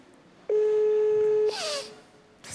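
A telephone being dialed sounds one clear, steady electronic tone for about a second, close and loud. A brief rustling burst follows.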